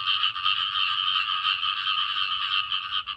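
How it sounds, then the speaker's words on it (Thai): Frogs and toads croak after rain in a dense, continuous chorus that is close and fairly loud, pulsing steadily without a break. "ฟังเสียงกบเสียงอึ่งบ้านข่อยเด้อ"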